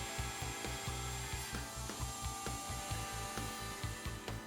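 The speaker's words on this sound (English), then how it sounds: "the remainder of the pinboard is routed" A router cuts through a wooden pinboard clamped in a Leigh B975 box joint jig, a loud, steady whine and grind with a fast pulsing chatter as the bit chews the wood.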